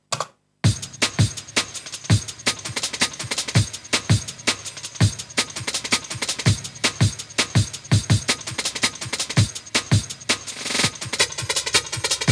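A punchy, distorted drum break sample, played from an Akai S1000 sampler, loops steadily, sharp crunchy hits and snares repeating in a fast rhythm, loud and close with no voices.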